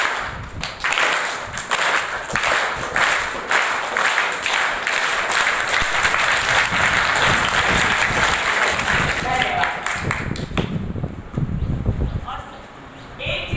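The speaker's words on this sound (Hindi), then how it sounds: "जैसे जैसे मेरा हाथ चलेगा, ऐसे ही ऐसे आपको ताली बजानी है।" Children at a children's camp of Arya Samaj Janak Nagar in Saharanpur clap together in a fast, steady rhythm that is loud and sustained, with an adult voice audible near the end.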